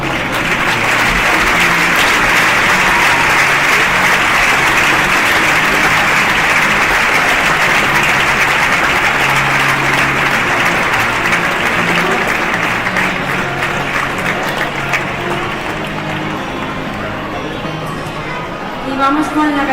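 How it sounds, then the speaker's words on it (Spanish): Sustained, loud applause fills a handball awards gala for nearly twenty seconds, a dense crowd clapping steadily before slowly thinning toward the end. "Aplauso."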